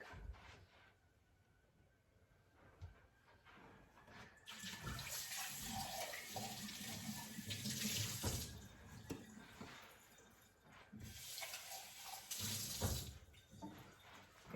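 Water running at a kitchen sink and pouring into a cup while cooking chicken enchiladas, heard as two faint bursts of splashing flow separated by a quieter pause, close by and without talk.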